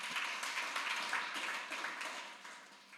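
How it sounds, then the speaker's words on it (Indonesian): A church congregation claps during a worship service, producing a soft, distant, continuous patter of many hands that gradually fades toward the end. "Kasih tepuk tangan bagi Tuhan."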